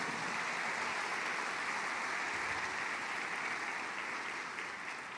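A church congregation applauding: dense, sustained clapping from a large crowd, heard from some distance as an even, rain-like roar that holds for several seconds and fades slightly at the end.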